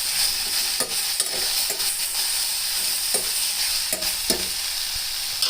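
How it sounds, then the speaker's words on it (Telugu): Red amaranth curry in a pan being stirred after cooking under a lid, with a continuous soft sizzle and intermittent scraping strokes of the spoon, close up. "కొంచెం ఈ విధంగా కలియబెట్టినట్టుగా చేద్దాము."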